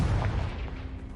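A single booming blast from the Confringo explosive spell in Hogwarts Legacy opens with a heavy low thump that decays quickly into a rumbling tail.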